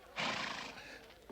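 A horse hitched to a carriage in a western setting gives a single loud, close whinny lasting about half a second, then it fades into quieter noise.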